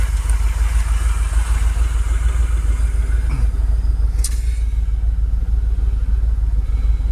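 Steady low rumble of a Jaguar XKR (X100) engine idling and holding revs, loud and close, holding an even pitch throughout with a faint higher whine above it.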